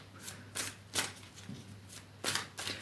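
Tarot cards riffled and shuffled in several quick bursts, close up, with brief pauses between each pass.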